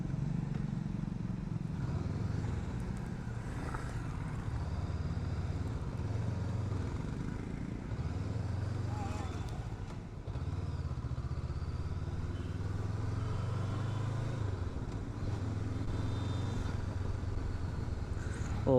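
Steady rumble of a Honda NX500 motorcycle engine heard from the rider's seat on the road, a smooth continuous drone with road and wind noise throughout, fairly quiet and without speech.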